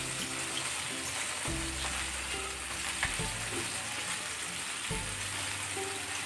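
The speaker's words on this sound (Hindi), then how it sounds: "मिनट फ्राई हो जाए उसको टर्न कर दूँगी" Chicken pieces fry in hot oil with a steady, dense sizzle and crackle that runs unbroken throughout, close and fairly loud, with occasional stirring bumps and no voices.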